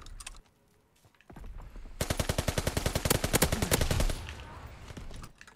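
A submachine gun fires in Call of Duty WW2, a long rapid burst of evenly spaced, loud sharp shots, preceded and followed by quieter game noise and a brief muffled voice.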